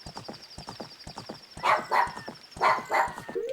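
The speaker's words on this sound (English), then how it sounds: "Puppy hears other puppy, so he must bork at other puppy." A pet dog named Ollie lets out a few loud, close barks in quick pairs, answering another dog, over a steady background of rhythmic clip-clop hoofbeats and a faint high tone from a game.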